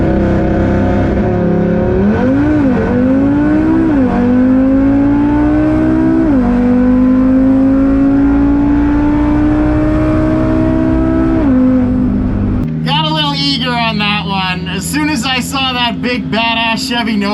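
A race car in a racing video game revs and accelerates through repeated gear shifts, its engine whine climbing and dropping in steps loud and close, before the sound switches abruptly to a different mix of tones near the end.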